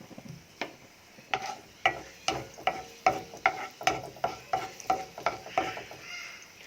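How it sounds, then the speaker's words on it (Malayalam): Dried red chillies fry in hot coconut oil, the crackling sizzle broken by a steady run of regular ladle scrapes and knocks against the pan, close and fairly loud. "എണ്ണ ചൂടായി വന്നാൽ നമുക്കിതിലേക്ക് ഉണക്കമുളക് ചേർത്ത് കൊടുക്കാം."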